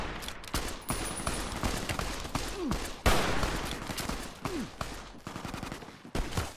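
Gunfire rings out during Fallout New Vegas combat, a dense run of loud, close shots in irregular bursts with sharp cracks and occasional lulls, and no voices.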